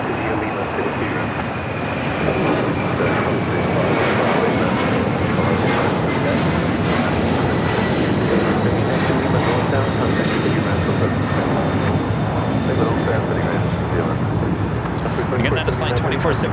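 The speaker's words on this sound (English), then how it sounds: "we got the Latam at 767 rolling down at 25 at right" A LATAM Boeing 767-300ER, about fifteen years old, rolls for takeoff on runway 25 right at LAX, its loud engine roar building steadily with a falling whine, under intermittent talk.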